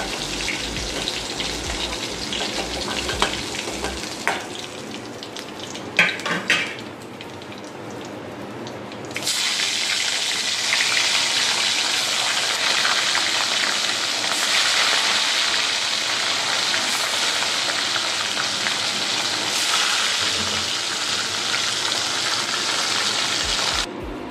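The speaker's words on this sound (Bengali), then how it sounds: "এবার আমি দ্বিতীয় ব্যাচটা এগুলো তুলা করে ছেড়ে দেব" A batch of fish drops into hot oil, turning into a loud, steady hiss that carries on for many seconds after a stretch of quieter clatter.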